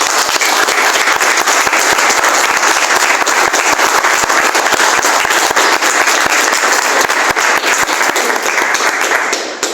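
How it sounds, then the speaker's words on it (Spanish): A church congregation gives sustained, energetic applause, a dense wash of many hands clapping at close range for nearly ten seconds without a break, with no speech heard over it. "Denle un fuerte aplauso a Jesús."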